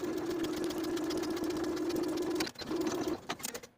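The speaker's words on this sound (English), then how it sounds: "And then we'll sew that flap in place with a 1/2 inch seam allowance." A sewing machine stitching a pocket flap on a pinafore dress runs in a steady, close whirring hum, then stops briefly and restarts in short bursts.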